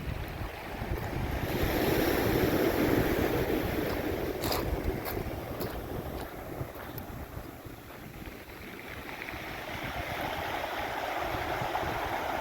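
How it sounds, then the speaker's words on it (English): Ocean waves wash up a rocky Cornwall beach with a broad, rushing surf roar, and the stones clatter and rattle as the water drags them back down, all under gusts of wind noise. "You can hear all of the rocks as the waves come in."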